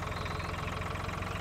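A tractor engine idles in the Farming Simulator 2013 video game, a steady low rumble with a regular throbbing pulse and no talk over it.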